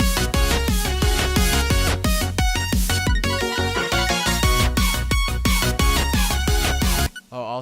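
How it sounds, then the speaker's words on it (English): Dense future bass beat with a punchy kick and a snare landing on every other kick, layered under bright chords and lead synths, steady rhythm throughout, loud and alone before cutting off near the end. "I added this like snare being played on every other kick"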